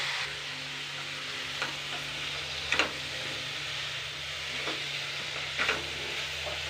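Boiled broad bean pieces and potato pieces fry in a pan without spices, giving a soft, even sizzle with occasional faint clicks of stirring, fairly quiet and without talking.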